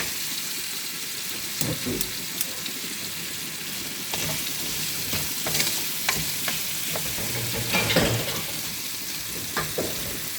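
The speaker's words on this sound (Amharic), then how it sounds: "ጥብስ መደረግ አለበት።" Ginger, chili pepper and garlic frying in hot oil, a steady sizzle broken by scraping stirs and occasional utensil knocks against the pan, close and continuous.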